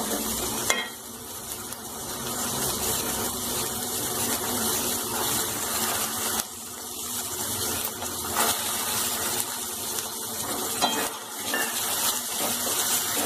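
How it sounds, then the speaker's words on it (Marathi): Mixed vegetables for Bhogichi Bhaji, a Maharashtrian dish that can include peas, sauté in hot oil in a pan over raised heat, with a steady loud sizzle and frequent spoon scrapes and clinks of stirring throughout. "ह्या भाज्या छानशा परतल्या गेल्या पाहिजे तेलात"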